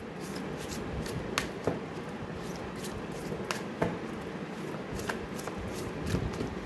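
Moonology oracle cards being shuffled by hand, a steady soft riffling and flicking with small sharp snaps at irregular intervals, close and continuous throughout.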